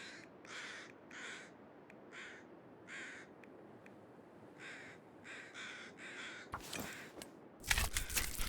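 Crows cawing in the snowy wilderness of the survival game The Long Dark, Interloper difficulty, with a steady run of harsh caws, some close and some farther off, over a faint windy hiss that ends in louder rustling bursts.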